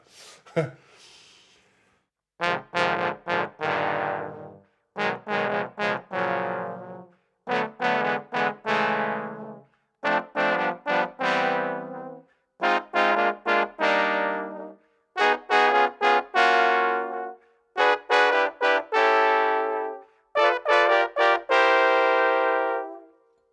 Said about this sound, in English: We are playing chords on the trombone so that we can hear what the chords sound like.